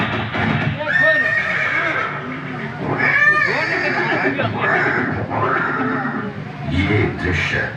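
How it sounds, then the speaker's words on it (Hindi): Horse neighing and whinnying with steady hoofbeats clip-clopping, set in a scene of Maharana Prata and his loyal horse at Haldighati; repeated loud whinnies over continuous clopping, with voices and music mixed in. "ये दृश्य महाराणा प्रताप और सुविख्यात स्वामी भक्त घोड़े चेतक के अंतिम मिलन का है"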